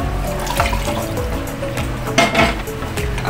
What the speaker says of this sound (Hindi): अब इसमें डालेंगे 1/2 कप पानी।